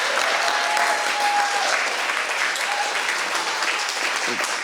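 Sustained audience applause for youth debaters at a mayor's literacy initiative debate event, a steady dense wash of clapping that fills the whole stretch at even loudness.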